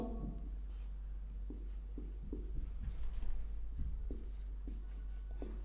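Chalk or marker scratching and tapping on a board during a physics lesson on Ohm's law, with soft strokes repeating steadily at close range over a low background hum.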